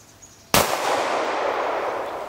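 A Buffalo Cartridge BRG9 shotgun fires a single sharp, loud report outdoors. The blast rings on into a long, slowly fading tail after a quiet lead-in.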